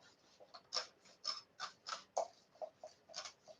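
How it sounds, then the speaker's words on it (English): Soft, repeated sticky ripping and rolling strokes from a lint roller, about a dozen quick passes in an uneven rhythm, close and fairly quiet. "That noise you hear is a lint roller."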